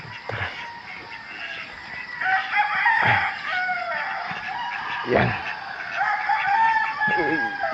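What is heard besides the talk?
roosters crowing and chickens clucking in the morning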